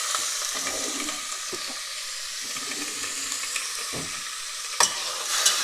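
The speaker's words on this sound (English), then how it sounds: "Keep mixing it so that all the sides get cooked evenly" Chicken pieces for a chicken curry are stirred and turned in a hot frying pan, with a continuous close sizzle under scraping stirring strokes and a couple of sharper clinks toward the end.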